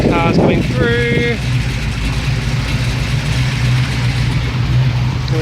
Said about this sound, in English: Cars coming through.